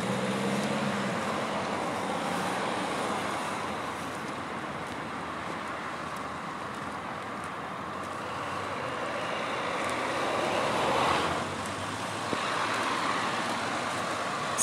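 Road traffic and a city bus at a bus stop on a university campus beside dense jungle, a continuous low rumble of passing vehicles with a swell from a nearer one late on.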